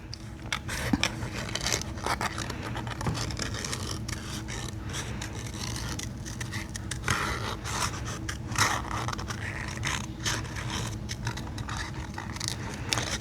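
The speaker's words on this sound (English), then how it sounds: "I try to cut my excess off where I'm not trying to wiggle my scissors around in it" Scissors fussy cutting paper for handmade cards: faint, close snipping and scraping strokes come in quick irregular bursts over a quiet room, with no talking.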